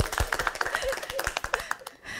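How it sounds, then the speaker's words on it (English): Scattered clapping from a small audience after a talk on disability inclusion in open source communities, a brief uneven patter of close hand claps that fades out. "And you're going to hear the clapping"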